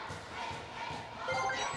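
A busy crowd roars and cheers continuously, a dense wash of voices with a few brief swells, sounding like a stadium audience, with high-pitched cheering in a baseball video game.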